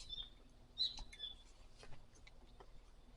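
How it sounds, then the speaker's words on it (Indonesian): Wild birds in a pine forest giving a few faint, high chirps and tweets scattered across a quiet background, with light rustling patter in between. "Dan terdengar suara burung ya teman-teman ya."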